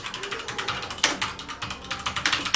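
Rapid, uneven clicks of typing on a Zebronics Nitro Pro mechanical RGB keyboard with Outemu Red switches, close and crisp, with keystrokes tumbling over one another and no voices.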